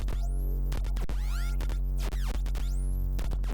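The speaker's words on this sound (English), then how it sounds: "I've added another instance of Vital that's going to create this sort of industrial loop" Unprocessed industrial synth loop from a Vital preset with distortion and compression: dense, buzzy sustained tones with sweeping pitch glides and rhythmic cut-outs, loud and continuous with no talk.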